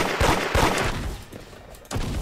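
Gunshots in the Roblox game Da Hood, a few sharp bursts of fire up close, spaced out with a short lull before another burst at the end.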